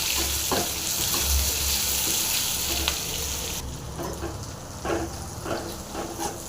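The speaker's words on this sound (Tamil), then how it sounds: "நல்லா ஃப்ரை ஆகட்டும் வெங்காயம் நல்லா ஃப்ரை ஆகணும்" Onion, green chili and ginger frying in a pan, a steady loud sizzle that goes on throughout, with occasional stirring scrapes and crackles near the end, no talking.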